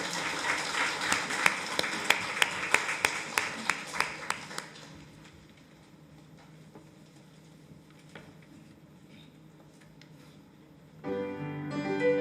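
A church congregation applauds after a choir hymn at a Sunday service, a burst of fairly loud clapping that fades after about four seconds into quiet room murmur, with organ or piano tones entering near the end.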